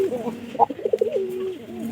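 Pigeons coo close by in a series of soft, throaty, rolling calls, with faint background noise and no clear talk.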